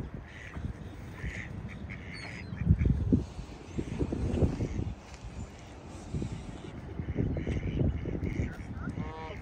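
Ducks quacking at a park pond in Jamaica, New York, scattered calls near and far over steady outdoor ambience with rustling and light movement.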